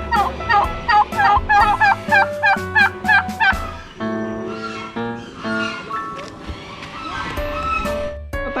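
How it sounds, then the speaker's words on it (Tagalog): Guinea fowl call in rapid, repeated harsh cackles, loud and close, followed by a chorus of other birds and a brief voice in the background, on a farm and zoo in San Agustin, Surigao del Sur, Philippines. "Guinea fowl."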